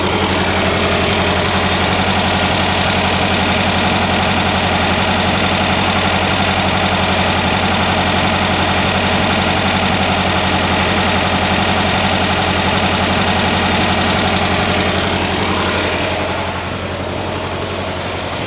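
A Volkswagen Rally Bug engine with Weber carburetors runs steadily at idle, its left half running cooler than the right. The loud, constant mechanical drone is close and continuous, with no talking.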